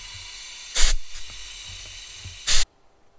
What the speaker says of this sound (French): Je vais mettre un petit coup de soufflette dans les gicleurs et les diffuseurs.